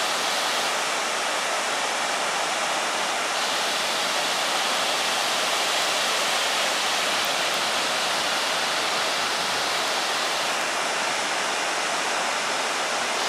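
Big Manitou Falls, Wisconsin's highest waterfall, gives a steady, full roar of falling water that holds constant and unbroken throughout.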